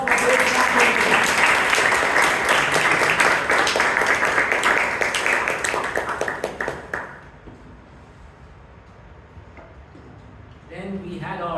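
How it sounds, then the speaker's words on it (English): A Toastmasters club meeting audience applauds loudly and steadily for several seconds, then the clapping fades out, leaving a quiet room before a voice begins speaking near the end. "A big round of applause for this."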